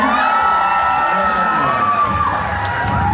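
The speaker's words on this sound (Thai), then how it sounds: "ขอเสียงปรบมือครับ" Fans at a live Thai country music award show in a shopping mall scream and cheer, a loud, unbroken wall of shrill voices and whoops packed close around the listener.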